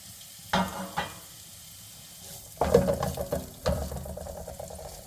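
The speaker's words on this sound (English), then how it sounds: "In the same pot or pan, we're going to add your onions into the pot." Onions hit a hot pot or pan for a beef okra stew and erupt into bursts of sizzling and frying, with a quieter gap before a louder, sustained sizzle and stirring.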